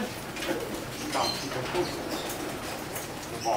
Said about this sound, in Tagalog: Nagkakagulo na yung mga stock hen namin.